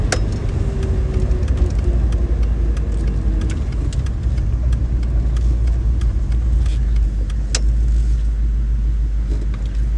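A 1974 Triumph Stag Mk2 with manual overdrive drives along, its engine and road rumble a steady close drone throughout with faint interior clicks.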